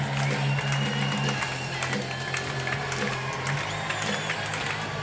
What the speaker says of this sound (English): There's a slow-motion Mexican wave going around centre court